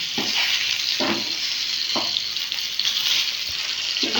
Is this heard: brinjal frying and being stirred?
yes